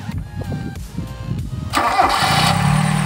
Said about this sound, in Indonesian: Sekarang kita nyalakan suara mesinnya seperti apa.